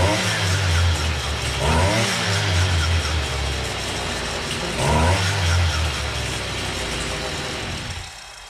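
A Stihl brush cutter running at steady high revs after startup, a loud buzzing two-stroke whine with two brief surges in pitch, close and alone with no talk.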